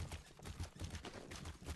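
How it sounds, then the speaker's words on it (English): Horse hooves in the fantasy video game RIFT, a quick, steady clip-clop of a single mount at close range, repeating in an even trotting rhythm for under two seconds with no talking. "Let me get my horse out."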